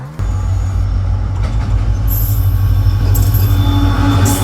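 A train passes close by a fishing spot beside the railway, giving a loud, steady rumble of wheels on track with high metallic squeals cutting in partway through.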